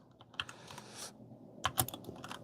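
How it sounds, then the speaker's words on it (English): Rapid typing on a computer keyboard during setup of a gaming live stream, with bursts of close, crisp key clicks and a short pause between them. "I have to type in what it is."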